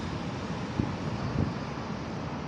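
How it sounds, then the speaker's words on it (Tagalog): Outdoor wind on a breezy, overcast day, a steady broadband rush buffeting the microphone with a couple of brief low gusts, no one speaking. "Pero ngayon medyo mahangin naman."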